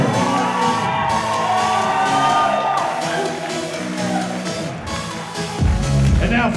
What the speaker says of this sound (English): please give a nice round of applause, ladies and gentlemen